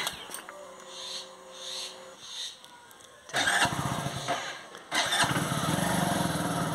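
A village motorcycle engine cranks briefly after a few seconds of faint background sound, then catches and roars to life, revving loudly and settling into a steady close idle.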